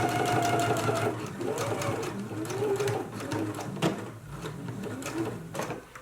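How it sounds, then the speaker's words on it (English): A sewing machine runs steadily, its rapid needle chatter stitching continuously up close with small pauses and shifts in speed. "And so now we can go to the sewing machine. You just want to stitch right across"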